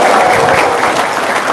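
Another short round of clapping from a crowd at a religious talk show, a steady wash of many hands that stays loud throughout.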